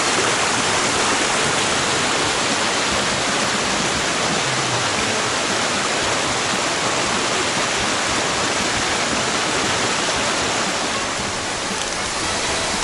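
A mountain river rushes along a wooded hiking trail on Mount Ryokami, a loud, steady broadband wash of flowing water filling the whole stretch with no voices over it.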